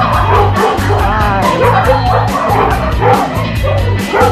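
Dogs at an animal shelter bark, yip and whimper together in a loud, busy chorus of overlapping calls.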